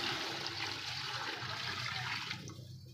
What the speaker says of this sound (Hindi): पानी आपने इसके अंदर खुला ऐड करना है।